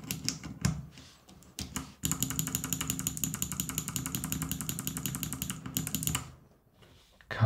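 Rapid clicky typing on a mechanical keyboard fitted with Kailh Box Navy switches, a dense run of sharp, even keystrokes close up, with scattered slower clicks before it and a quiet pause near the end.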